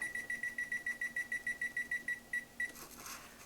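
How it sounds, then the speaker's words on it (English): A rapid series of about fifteen short, high electronic beeps at an even rhythm as a kitchen timer is set, close and clear, followed by a soft rustle. "And then you set your timer."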